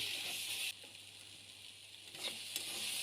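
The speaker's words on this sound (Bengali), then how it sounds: "পেস্টগুলো দিয়ে ভালো করে নাড়াচাড়া করে ভেজে নিলাম।" Spice and poppy seed paste frying in a pan for a posto soybean dish, a steady close hiss of sizzling oil with faint scraping as it is stirred, no voices.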